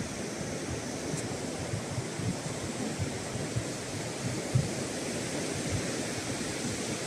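Ocean surf rolling onto Borth Beach near Aberystwyth: a steady wash of breaking waves with wind noise on the microphone and a few soft thumps, no voices.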